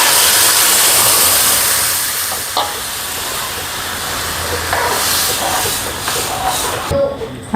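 Cumin seeds sizzling in hot oil for a tempering, a steady loud hiss that fills the whole clip with a few faint kitchen clinks near the end.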